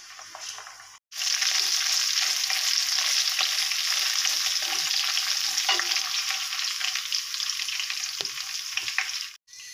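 Chopped onions sizzle in a pan with cumin, mustard seeds, ginger-garlic paste and green chilli for a tomato and potato curry. The steady, close frying runs unbroken for several seconds, with short breaks at the start and end and no talking.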